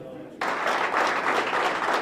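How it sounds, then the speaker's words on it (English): A high school crowd of Tigers fans erupts into a loud, sustained rousing ovation, steady applause and cheering that starts abruptly after a quiet moment and keeps going without a break. "the Tigers giving a rousing ovation for their team manager"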